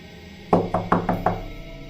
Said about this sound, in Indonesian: Dan tak lama kemudian diiringi dengan suara ketukan.